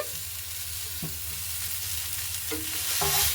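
Grated potato and tomato being stirred in a frying pan, a continuous bright sizzle with occasional scraping knocks of a spoon against the pan, close and steady, no voices.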